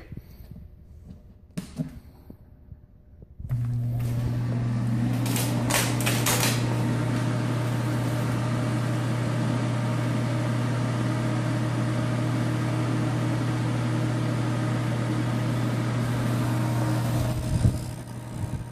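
A ProTemp Sun Stream PT-70-SS 70,000 BTU radiant kerosene heater is lit with a few clicks and knocks, then fires into a loud, steady roar with a low grinding hum from the pump, close up and continuing unbroken.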